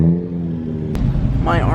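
A Subaru with no headlights revs hard in a crowded car lot, its engine roaring loud and close with a sharp crackle midway, while people talk over it.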